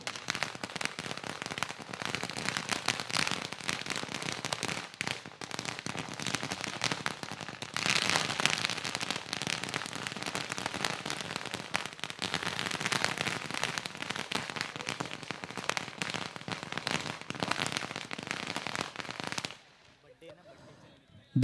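Firecrackers and fireworks burst at a night cricket match between Kambe and Talavali in a local trophy tournament, a dense, continuous crackling barrage for about twenty seconds before it abruptly cuts to near silence.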